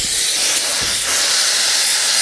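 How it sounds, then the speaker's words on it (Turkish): Steam cleaning machine running at about 250 bar during car interior detailing, giving a steady, loud, continuous hiss throughout with no talking. "ilacın bıraktığı kimyasalı buharla pırıl pırıl ediyorsun, tertemiz ediyorsun"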